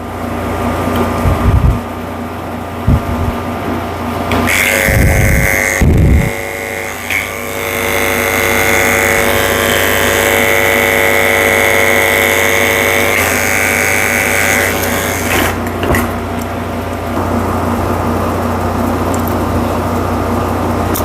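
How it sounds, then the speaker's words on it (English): Electric clippers fitted with a 30 blade shaving the hairy paw pads of a small Poodle-Maltese mix during grooming, a steady close motor whine that runs continuously with brief pauses and pitch shifts as the blade works the fur. "Shaving out the pads of his feet with a 30 blade."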